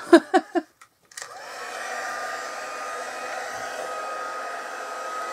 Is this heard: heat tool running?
yes